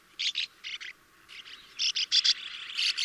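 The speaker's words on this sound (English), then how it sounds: "Bank swallow colonies can contain thousands of birds" A bank swallow colony calling, with bursts of high chirping and twittering from many birds that come in clusters, some near and some farther off, alone against a quiet background.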